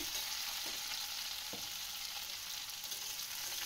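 Onions sizzle in a pan for a Bengali banana-flower dish, a steady close frying hiss with a couple of soft stirring knocks.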